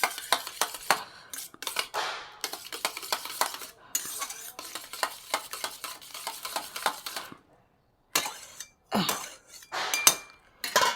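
Eggs with salt and turmeric are beaten in a bowl, a utensil clinking and scraping against the sides in quick, irregular bursts, with a few brief pauses between spells of close, brisk whisking.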